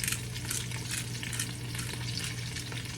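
Seasoned lomo saltado (Peruvian beef stir-fry) sizzles steadily in a frying pan as it is stirred and mixed, a continuous close crackling frying hiss with no talking.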